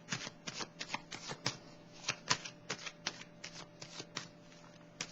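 Tarot cards being shuffled by hand in quick, uneven bursts of riffling and slapping, close and fairly quiet over a faint steady hum, with no talking.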